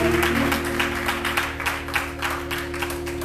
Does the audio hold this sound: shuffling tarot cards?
no